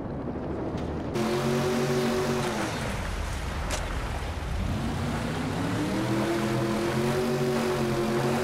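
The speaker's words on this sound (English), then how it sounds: "The plane is right here!" A propeller plane in the Saints Row 2 video game drones loudly and steadily, its engine tone dipping briefly before rising again, with no talking.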